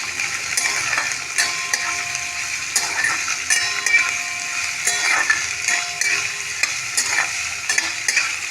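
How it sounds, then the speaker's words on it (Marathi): Chopped onion sautéed in oil with fried peanuts for pohe, with steady sizzling under repeated scraping stirs of a spoon against the pan, close and continuous. "कांदा आपण चांगल्या पद्धतीने परतून घेणार आहोत।"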